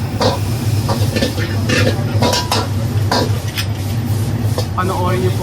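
Fried rice is tossed quickly in a pan, making a dense run of metal scraping and clanging spatula strikes close up over a steady low rumble of background noise.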